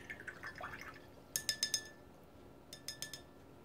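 Water is dabbed with a brush onto a fountain-pen ink swatch on paper, giving soft, faint wet taps and small glassy clinks in two short clusters of three to four.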